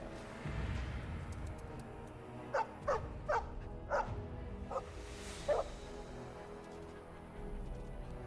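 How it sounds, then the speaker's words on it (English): Dog barking in the video game Dragon Age Origins: six short, sharp barks spaced about a third of a second apart over a low, steady game ambience, moderately close and clear. "Hey, it's that dog."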